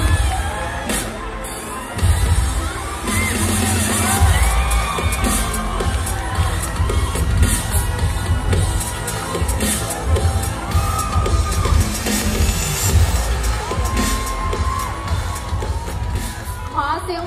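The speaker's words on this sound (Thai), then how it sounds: "ฉันต้องขอเสียงกรี๊ดดังๆอีกครั้งนึงเป็นกำลังใจให้เพ็งค่ะ" An audience at a male pageant in Thailand screams and cheers loudly and continuously, a dense crowd roar with whoops and shouts and occasional bangs over amplified sound.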